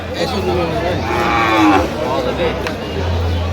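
A dairy cow lets out a long, loud moo nearby, rising then falling, amid a murmur of people chatting at a cattle market in Aftabganj, Dinajpur.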